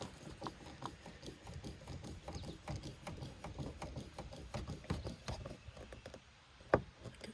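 A screw is tightened on the passenger-side window of a 2015 Toyota Tacoma, giving faint, close ratcheting clicks and small mechanical taps in an irregular run, with one sharper click near the end.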